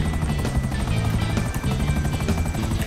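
Helicopter in the video game GTA 5, its rotor thumping steadily and loud throughout, a dense continuous drone with rhythmic blade pulses.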